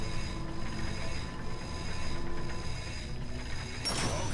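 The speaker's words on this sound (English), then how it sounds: "Get on that bolt crank. Come on." A bolt crank ratcheting as it spins in Ratchet & Clank, a dense continuous mechanical clicking and whirring with a sharper burst at the end.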